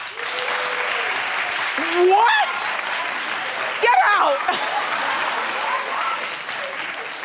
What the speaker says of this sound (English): Okay, clap if you hear Laurel.